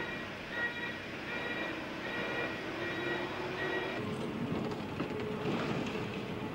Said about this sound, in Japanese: 南に線路が伸びており、貨車がバックで入っていきます